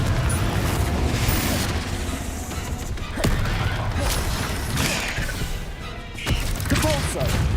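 Repeated booming spell blasts from the Confringo fire curse in Hogwarts Legacy on PS5, loud sharp impacts at roughly one-second intervals over a dense bed of game noise and crackling debris.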